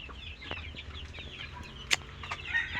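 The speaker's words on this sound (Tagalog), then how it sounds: "Daming manok." Chickens on a farm clucking in short scattered calls over a low outdoor background, one louder cluck standing out midway, with no talk.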